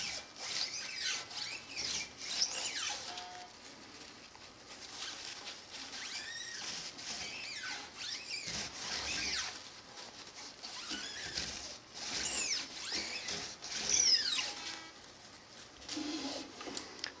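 New strings on a hollowbody guitar are wiped and rubbed down with a cloth, making soft, close, continuous rasping and swishing strokes that repeat irregularly, quiet, with no speech.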